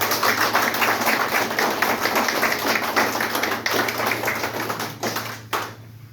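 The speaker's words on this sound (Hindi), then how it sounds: "हम लोग मिलकर इन लोगों का स्वागत करते हैं तालियों से" An audience at a health and awareness program in Assam claps to welcome first-time guests, a dense, steady patter of many hands that thins out and fades near the end.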